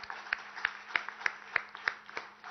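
Audience applause at a rocket launch success meeting for the Vikram-S, heard as a faint sparse patter of separate claps at a steady rhythm, a little distant, with a low hum under it.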